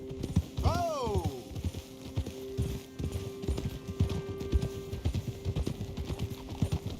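Horse hooves clip-clop steadily while riding in Red Dead Redemption 2, a fast regular rhythm up close with a brief whinny near the start and game music tones underneath.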